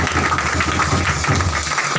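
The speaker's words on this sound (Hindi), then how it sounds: "जब तक ताली बजाएंगे" Steady applause from a gathering at a healing prayer program in Jamui, Bihar: continuous, dense clapping filling the whole stretch, close and fairly loud, with little speech over it.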